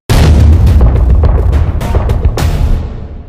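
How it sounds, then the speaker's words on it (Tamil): A huge explosion erupts behind a building in an animated manhwa scene, a loud, close, rumbling boom with crackling bursts that slowly fade. "நெக்ஸ்ட் சீன்ல பில்டிங் பின்னாடி உள்ள இடம் வெடிச்சிருக்கும்"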